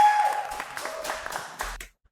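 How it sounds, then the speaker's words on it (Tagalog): A studio crowd at a television talk show applauding, a brief wash of clapping at moderate volume that cuts off abruptly into silence. "totoo ba yung crowd na pumapalakpak?"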